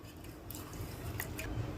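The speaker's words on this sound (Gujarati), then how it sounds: "ચોખાને હવે પહેલા ધોઈ દેવાના છે।" Raw rice being washed by hand in a bowl of water, a steady wet swishing and squelching with a few soft drips, close and continuous.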